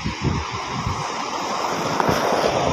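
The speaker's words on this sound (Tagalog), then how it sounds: "Kaso yung alon dito. Laki yung alon guys." Big sea waves surge against a port boat ramp in a steady, close roar of rushing surf, with wind buffeting the microphone and no voices.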